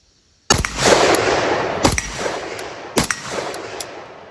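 Rapid shots from an IWI Galil ACE Gen 2 rifle: three sharp, loud reports about a second apart, each trailing into a long echoing decay, with no talking.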